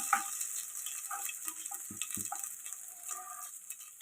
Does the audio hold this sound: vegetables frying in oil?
yes